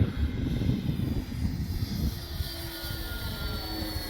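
A radio-controlled Dynam Bf-109 model warplane flies overhead, its electric motor giving a steady droning buzz at moderate distance, heard over outdoor wind noise.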